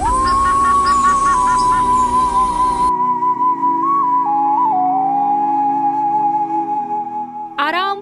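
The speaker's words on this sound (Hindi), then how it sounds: "चहकती चिड़िया" Birds in a lush green forest sanctuary, a clear whistling tone gliding steadily over a busy chirping chorus at first, then carrying on alone against a thinner background, with a brief sharp call near the end.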